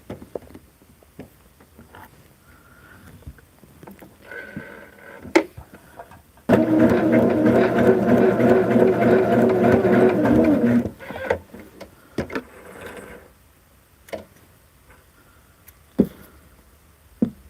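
A sewing machine chain piecing placemat fabric runs in one steady, loud burst of about four seconds, with softer handling noises and brief taps before and after.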